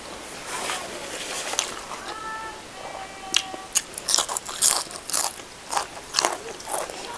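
Crunchy fried food bitten and chewed during a home meal of Isaan-style fatty beef larb with plenty of vegetables, with several close, sharp crunches in quick succession and brief bits of talk in between.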